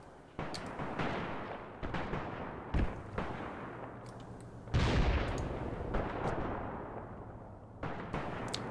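Mortar rounds and other battlefield fire in the WWII tactics game Graviteam Tactics Mius Front: repeated heavy booms and blasts at irregular intervals, one louder deep impact midway, over a constant rumbling backdrop.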